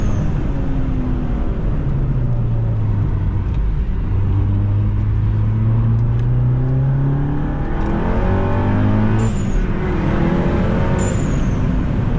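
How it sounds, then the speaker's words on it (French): A front-wheel-drive car drifting on a race track, engine droning steadily and revving up and down close by, with brief tyre squeals near the end. "On va faire que du drift."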